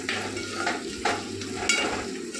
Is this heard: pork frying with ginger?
yes